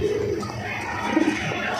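Pigeons coo softly in low, throaty murmurs, two short bursts among the faint rustle of a loft, with no talking.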